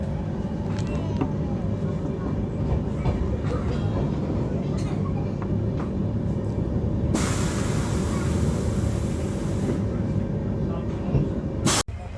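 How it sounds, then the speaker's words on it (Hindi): Tejas Express train rolling along after leaving Tundla, heard as a steady, continuous rumble of wheels and carriage noise from on board, with a brighter hiss swelling for a few seconds midway and a brief sharp knock near the end. "ये टुंडला से निकल चुकी है अपनी ट्रेन।"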